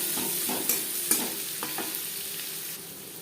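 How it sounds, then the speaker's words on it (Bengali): Chopped onions fry in refined oil in a kadai for chicken egg chow mein, giving a steady broad sizzle with a few sharp spatula clicks and scrapes against the pan. "দু তিন মিনিট পেঁয়াজ ভেজে নেওয়ার পর"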